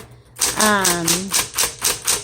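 A 1970s metallic blue Smith Corona Electra 120 electric typewriter types in a quick run of sharp key strikes, close up, with a voice speaking briefly over the first strokes.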